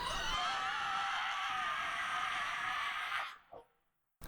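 A monster apple creature lets out a sustained high-pitched, unnatural screeching shriek for about three seconds before it cuts off abruptly, leaving near silence.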